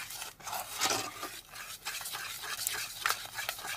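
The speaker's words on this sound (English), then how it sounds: "so I'm going to stir that" Spoon stirring a loose spiced Christmas cookie dough mixture in a bowl, a close, soft scraping and swishing with uneven strokes over a few seconds, no talking.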